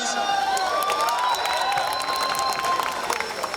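Audience applause and cheering at a Marathi film trailer launch event, a dense burst of clapping with scattered whoops filling the space, some voices mixed in.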